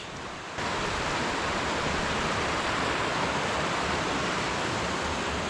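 River water rushes over rocks in a small trout stream, a steady broadband roar that starts abruptly and continues evenly and close, with no voices.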